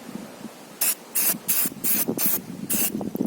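An aerosol can sprays oil onto an air filter in about six short, sharp hissing bursts with small gaps between them, near and fairly loud, with no speech.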